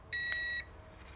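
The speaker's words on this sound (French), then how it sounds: "On entend un premier bip, ce qui signifie on ouvre la mémoire." One clear, steady electronic beep lasting about half a second sounds up close from a Pujol remote during programming, ending abruptly against a quiet background.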